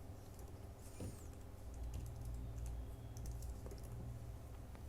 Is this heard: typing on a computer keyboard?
yes